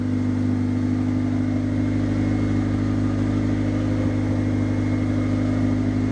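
A turbocharged Honda Civic engine idles while warming up, a steady, even hum heard nearby without any revving or talk.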